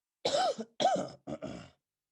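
Three quick harsh coughs, close up, with brief pauses between them and nothing else around.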